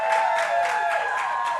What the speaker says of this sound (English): They are clapping for me